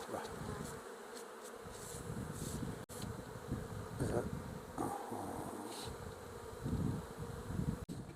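Honey bees buzz steadily and densely around hives in a desert village near Yazd, Iran, a close continuous drone with brief louder bursts and occasional thumps.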